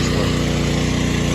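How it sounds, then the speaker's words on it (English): A generator running on a warehouse roof job site, a loud, steady close engine drone with an even low throbbing hum and no break. "If I can get away from that generator a little bit."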